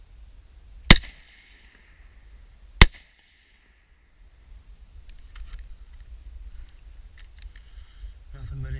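Two loud, sharp gunshots about two seconds apart, each ringing off a pan and an AR-500 steel plate with a bright metallic tail, followed by quieter rustling and faint handling noise.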